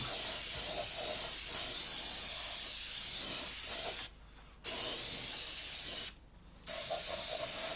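Spray paint hissing in light passes over a 1/48 scale model helicopter, a steady close airbrush-like spray that stops briefly twice and resumes, with no talking.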